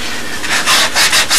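Sandpaper rubs rhythmically over the fuselage of a Spitfire model airplane in loud, close strokes that quicken into a steady back-and-forth scrubbing.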